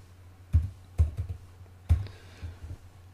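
A computer keyboard clicks in short, separate bursts of keystrokes with pauses between them. The typing is close and fairly quiet, and no one speaks.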